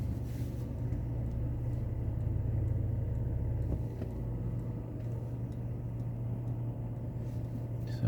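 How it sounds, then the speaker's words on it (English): A car passes along a road in traffic, heard as a steady low engine rumble and tyre roar that continues evenly through the whole stretch, fairly faint and with no voices over it. "There's a car zooming along."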